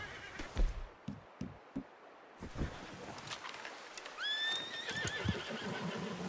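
A horse whinnies loudly amid clip-clopping hooves and scattered thumps, with faint birdsong in the background, in the video game Red Dead Redemption 2.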